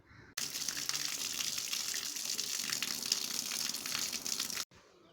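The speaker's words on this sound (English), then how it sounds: "This we have to clear by putting force water in this side." Water forced hard through a clogged washing machine inlet primary filter, a loud steady gushing spray that runs about four seconds with an abrupt start and stop, no talk.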